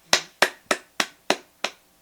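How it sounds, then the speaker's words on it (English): Six sharp, crisp claps from one person ring out alone at a steady, fairly quick pace, each close and distinct with a short decay and silence in between. "Just start clapping out of nowhere?"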